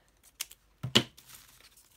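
A paper ruffle is cut in a few quick, crisp snips and crinkles, close and quiet, with no voices.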